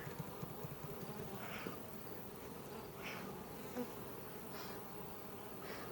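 Honeybees buzzing densely in the bottom brood chamber of an opened hive, a continuous close drone with individual bees whining past now and then.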